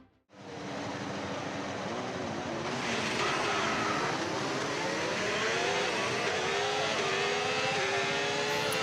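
Formula 1 cars pulling away from the grid onto the formation lap, a loud continuous engine roar that swells as several cars rev and accelerate past, with rising and shifting engine tones, no talking.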